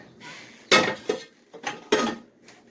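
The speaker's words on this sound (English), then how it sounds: "I'll take the big pan and set it over here." A big metal pan lifted and set down in a home kitchen while cooking goulash: a few close, loud clanks and scrapes in uneven bursts, with short quiet gaps between them.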